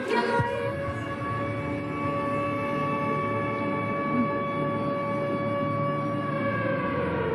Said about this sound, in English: suddenly the air raid sirens begin to wail